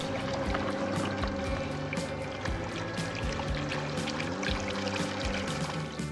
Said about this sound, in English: Sailing through the water like this, going electric.